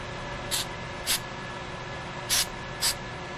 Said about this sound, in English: Now what I'm spraying on the glue is an accelerant.